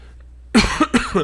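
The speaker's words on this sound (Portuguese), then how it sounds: "Perdão pela tosse" Two sharp, close coughs in quick succession break a near-silent room, each followed by a short rasping tail.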